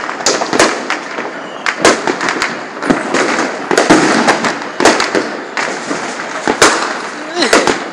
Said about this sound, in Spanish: Yo tiré un cohete.